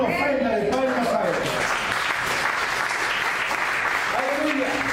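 A church congregation at a Spanish-language service claps together, a dense, sustained wash of applause with a speaking voice rising over it at the start and again near the end.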